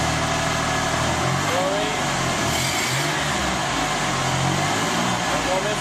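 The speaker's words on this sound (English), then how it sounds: "And more Misfire." A car engine runs steadily with a misfire just after a new fuel injector was fitted, a continuous mid-pitched idle close by while someone speaks over it.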